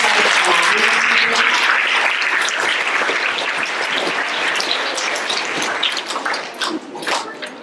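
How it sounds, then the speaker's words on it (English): Applause at a school awards ceremony, a loud, full round of clapping from an audience that rolls on steadily and then thins into scattered claps as it dies down. "final round of applause"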